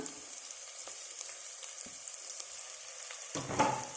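Spice powder frying in a pan for spinach rice, a soft steady sizzle with light scraping stirs, ending in a brief louder scrape and clatter, quiet and close without talk.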